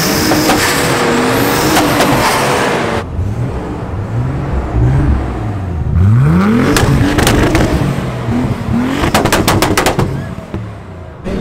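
Drift race car engines revving hard and accelerating, with rising and falling pitch sweeps and sharp backfire-like pops and crackles, loud and close, several cars in a street parade setting.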